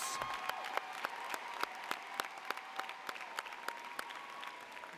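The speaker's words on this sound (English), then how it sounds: "Let's give a big round of applause to our mothers." A commencement ceremony crowd applauds to honor mothers. The clapping is fairly faint and distant, with sharp individual claps rising above the softer wash of applause.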